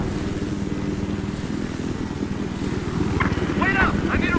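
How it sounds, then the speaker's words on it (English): Steady rhythmic chopping of helicopter rotors in the video game Battlefield 4 throbs continuously up close, with a voice speaking briefly near the end. "The chopper's behind you."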